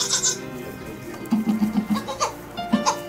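A newborn goat kid, just born with its siblings at a goat birth, bleats in a series of short, quavering, nasal cries close by, with people talking faintly around it.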